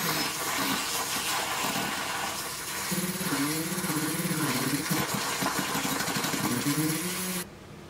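A Vomelon portable travel milk frother whisk spins in milk with a faint, continuous motorized buzz that wavers slightly in pitch, then drops off abruptly near the end.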